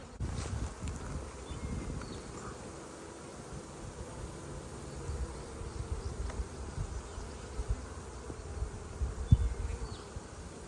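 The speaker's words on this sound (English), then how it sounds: "Definitely got some bees on the ground." A quiet, steady hum of a honey bee swarm buzzing carries throughout, with soft rustling and occasional closer buzzes passing by.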